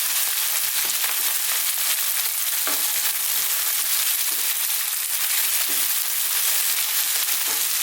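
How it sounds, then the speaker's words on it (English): Cubed potatoes frying in a pan for an Indian beef potato curry, a steady dense sizzle with occasional soft stirring knocks, close and continuous with no talking. "Let's just fry them around."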